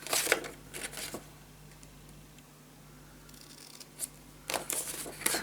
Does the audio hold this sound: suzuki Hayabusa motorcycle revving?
no